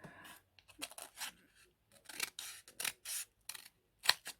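Scissors cut paper in short, crisp snips and rustles, several separate bursts spread unevenly across the moment, close and fairly quiet, with brief silences between cuts.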